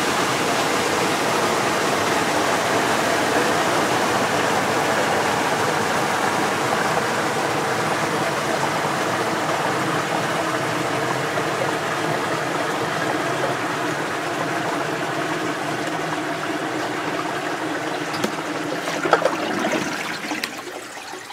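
Water rushes and gurgles steadily as a full tub drains fast, a loud continuous churning that tapers off near the end with a few faint knocks.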